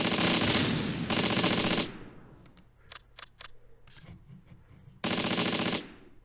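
Loud machine-gun bursts from the WWII tactical game Close Combat, a long rattling burst, then a few sharp single shots and quieter pops, followed by another sustained burst near the end.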